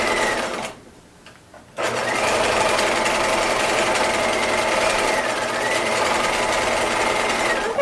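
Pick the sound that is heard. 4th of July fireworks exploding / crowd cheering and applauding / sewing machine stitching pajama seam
sewing machine stitching pajama seam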